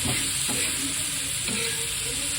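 Spices are stirred into a hot cooking pan, giving a loud, steady sizzle with scraping strokes of the spoon against the pan.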